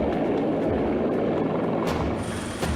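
A military helicopter flies close by in a loud, steady rotor wash with a constant low throb, heard alone without voices.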